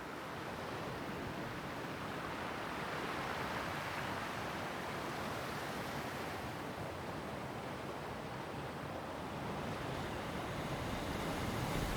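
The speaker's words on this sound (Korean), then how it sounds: "파도, 바람, 새. 이제 이곳에 들리는 소리는 평화의 소리뿐입니다." Ocean surf and wind wash steadily over Nongseom, a small island off Maehyang-ri that was once a US Air Force firing range and is now a stopover for migratory birds. The roar is dense, continuous and close, with gentle swells and no voices.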